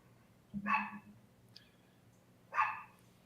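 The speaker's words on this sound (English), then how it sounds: "My dog is just being an asshole." A household dog barks twice, about two seconds apart, each a sharp, fairly close bark over a low background hum with no talking.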